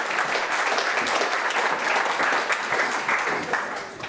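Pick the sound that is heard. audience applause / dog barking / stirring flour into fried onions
audience applause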